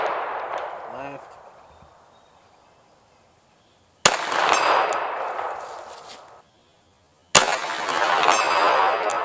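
Pistol shots ringing off a steel target 100 yards away: two loud, sharp cracks several seconds apart, each followed by a long metallic ring and echo. A fainter, decaying ring opens the passage.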